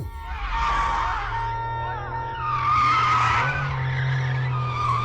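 A car skids to a halt with a long, loud tire squeal that rises and falls over several seconds, engine rumble underneath, in a Hindi film road scene.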